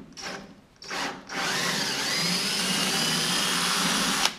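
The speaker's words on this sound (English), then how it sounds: "I've already drilled that out with the OMT drill bit. I'm just going to chase it quickly." A power drill fitted with an OMT 17/64 drill bit chases a thread. Two short whirring bursts come first, then a steady, close drilling whine that runs alone until it stops abruptly.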